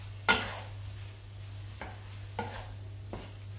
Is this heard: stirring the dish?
yes